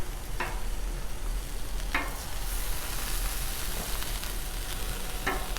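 Shrimp sizzle steadily on a hot Blackstone griddle at about 270 degrees, a dense continuous frying hiss with a few faint scrapes or taps scattered through, close and unbroken.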